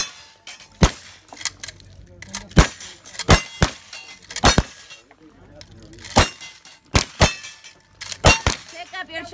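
Pistols fire in a cowboy action shooting match shoot-off, sharp near cracks coming in quick pairs and clusters, about a dozen shots with brief pauses between them. Voices can be heard faintly in the background.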